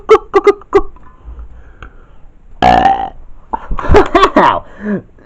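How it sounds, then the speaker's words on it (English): A loud, drawn-out burp from a burping contest stands out in the middle, with shorter vocal sounds and some talking before and after it. "Wow, that is excellent burping there."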